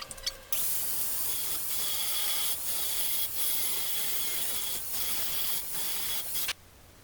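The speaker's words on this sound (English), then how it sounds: "It's time for more grinding." Steady abrasive hiss of a grinder cutting into a metal trailer spar for a teardrop trailer build, continuous and close with small rhythmic dips, ending abruptly.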